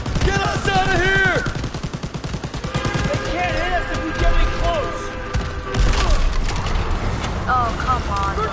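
Rapid automatic gunfire in Call of Duty from an overheating gun rattles on continuously, with thumps and explosions underneath while voices shout over the battle.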